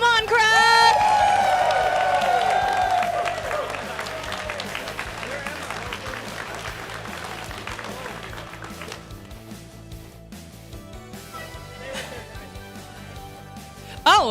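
A crowd at a Yu-Gi-Oh! tournament final claps, cheers and whoops for several seconds, loud at first and slowly fading over a steady hall hum, with a voice talking over the noise.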